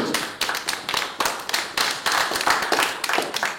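Spectators clap for a contestant at a competition in a short film, a brisk round of applause from a modest crowd, individual sharp claps clearly audible in a close, steady rhythm.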